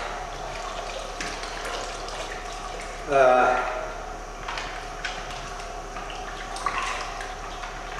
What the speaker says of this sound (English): These are full of water, so we'll get that out